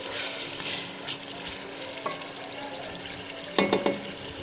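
Spicy chicken qorma with desi masala simmers and sizzles gently in a pot, a low steady frying hiss with a faint clink partway through and a short burst of stirring clatter near the end.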